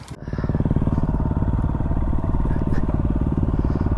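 A WR dirt bike engine runs steadily after starting outdoors at camp, a loud, close, even putter with a rapid rhythmic pulse that holds for the whole stretch.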